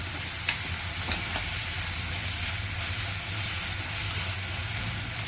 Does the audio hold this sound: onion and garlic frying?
yes